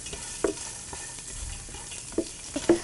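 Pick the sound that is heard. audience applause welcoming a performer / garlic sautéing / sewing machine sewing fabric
garlic sautéing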